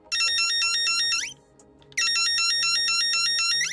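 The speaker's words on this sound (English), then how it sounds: "Here we have the vintage radio control R2-D2. So I don't think the batteries are working too well on this, but I can get them to make sound." A vintage radio-control R2-D2 toy with weak batteries gives off rapid electronic warbling beeps in two long bursts split by a short pause, loud and close.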